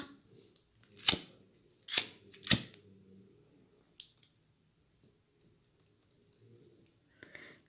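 Scissors cutting bead thread during Miyuki beadwork for a Christmas ornament: three sharp, close snips in quick succession, followed by a few faint small clicks in a quiet room, with no talk.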